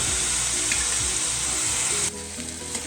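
Tomatoes hit a hot pan of onion, chana dal, mustard seeds and cumin for radish palya, setting off a loud, steady, close sizzle that abruptly drops to a quieter hiss near the end.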